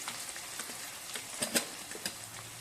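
Eggplant pieces fry in hot oil, a quiet steady sizzle with scattered small pops and crackles, no voices.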